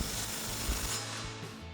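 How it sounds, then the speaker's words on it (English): Ratchet tightening an exhaust hanger bolt under a Ford F-250 with an MBRP Armor Plus single exhaust system, a short run of close, quiet ratcheting clicks. "We'll go ahead and tighten this one down."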